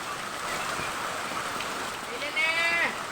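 Floodwater from the overflowing Meenachil river rushes across a flooded yard as a steady, dense broadband roar, with a brief tonal call rising over it near the end.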